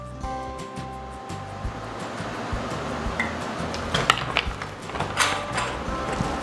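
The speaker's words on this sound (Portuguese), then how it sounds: "Vamos colocar um pouquinho da água sanitária." Household bleach is poured into water in a home chemistry test: a steady, close splashing pour runs throughout with light clinks and bursts of spatter.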